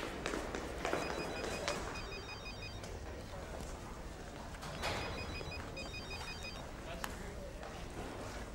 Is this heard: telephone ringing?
yes